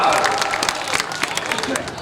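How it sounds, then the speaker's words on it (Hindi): Dense applause from a crowd at an all-India mushaira poetry gathering, a steady wash of many clapping hands sustained throughout, with faint voices and murmurs mixed into the noise. "तालियां आनी चाहिए सारे भाई"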